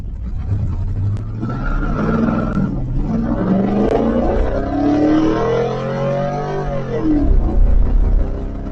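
An LS-powered Chevrolet C10 pickup truck accelerating: a loud engine drone climbs in pitch through the gears with a shift midway, rising again toward a roaring finish, with no talking.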